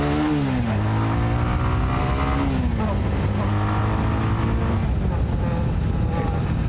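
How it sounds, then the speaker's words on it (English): Kawasaki Avenger 220 motorcycle engine revving up as the throttle opens during a ride, pitch rising and falling in several sweeps over steady road noise, with faint talk underneath. "you can hear there when I open up the throttle, it's fine"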